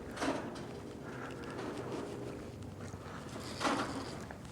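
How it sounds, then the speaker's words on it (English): Steady wind blowing outdoors in Texarkana, Texas, a broad rushing noise with a couple of stronger gusts, no voices. "It's so windy out right now."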